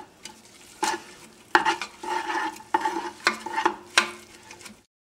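Lentil soup ingredients sautéing in a pot, a soft sizzle broken by repeated scraping stirs of a utensil, several bursts at close range, then ending in silence.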